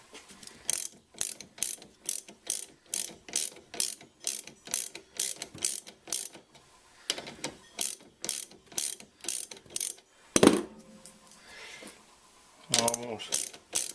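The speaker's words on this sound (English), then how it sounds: "So we're going to take that nut off now." Ratchet wrench loosening the nut on a shock strut held with straps: a fast regular run of sharp clicking ratchet strokes, a brief pause, then more uneven clicks and a final clatter, close and alone.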